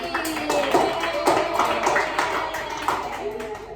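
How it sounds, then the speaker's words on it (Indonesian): Scattered clapping from a classroom group mixed with murmuring voices, moderately loud and steady throughout. "tepuk tangan untuk Mbak Sofi."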